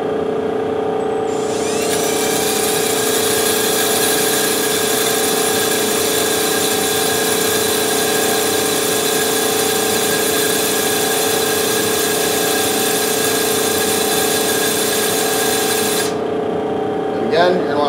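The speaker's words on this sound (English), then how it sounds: "here we go with the drill" An electric drill spins a tungsten electrode against a grinding stone, a loud steady whine with a constant high grinding hiss that runs unbroken for about fifteen seconds and then cuts off.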